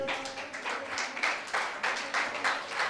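Audience applause at an honouring ceremony, a steady wash of many hands clapping in moderately loud waves, fairly close, with no clear talking over it.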